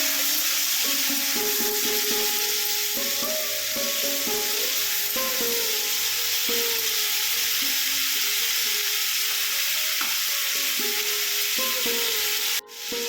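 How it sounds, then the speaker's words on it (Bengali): Vegetables being stirred and sautéed in a pan, with a steady sizzle under repeated scraping and rubbing strokes, close up with no voices, ending in a brief clatter. "একটু নাড়াচাড়া করে নিচ্ছি"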